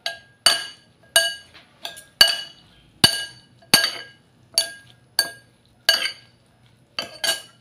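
Cucumber party salad with red onion being mixed in a bowl, a rhythmic series of about a dozen sharp clinks of utensil on the bowl, close and clear with no talking.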